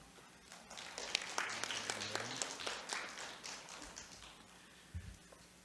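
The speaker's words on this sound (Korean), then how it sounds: "큰 박수 부탁드립니다." Audience applause for a presenter at a development cooperation forum, scattered claps forming a moderate, fairly distant wash that thins out toward the end, with a brief low thump near the close.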